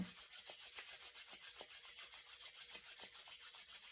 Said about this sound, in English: Everybody bring your hands together and rub really quick.